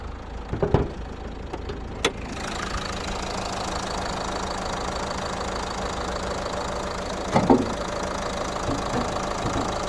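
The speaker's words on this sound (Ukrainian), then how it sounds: "Послухаємо, подивимося, як працює двигун." A 2010 Nissan Qashqai+2 1.5 dCi diesel engine idling with a steady low rumble and faint rhythmic knock, preceded by a few sharp clicks and thumps near the start.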